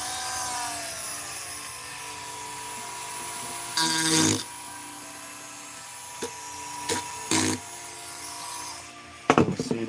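A coarse file smooths a wooden carving at a workbench, rasping strokes close up under a steady background hum, with a few short scraping bursts.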